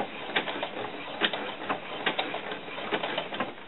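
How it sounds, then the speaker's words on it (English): A sewing machine stitches across doll-skirt fabric in a rapid, even mechanical whir with a pulsing, rhythmic clatter, heard close and fairly quiet with no talking. "So put your needle down and sew right across that area."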